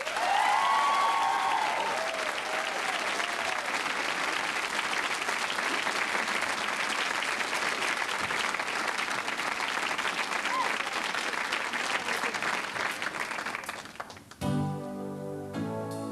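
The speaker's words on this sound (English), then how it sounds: "will you give a great Studio 4 round of applause to the artists who are going to represent us in Birmingham" A studio audience at a televised Eurovision national selection gives the artists a big round of applause, loud and sustained with some cheering, fading out near the end as music begins and a voice comes in.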